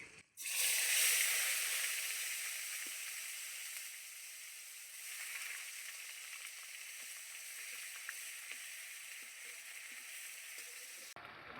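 Grated onion hits hot oil with a loud, sudden sizzle that flares up at once, then settles into a steady, softer frying hiss with faint crackles for several seconds before cutting off.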